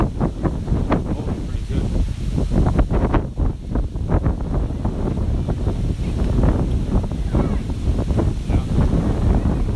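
Strong wind blows across Woodbine Beach in Toronto, a loud constant rush with buffeting on the microphone, while a person speaks a few brief words over it.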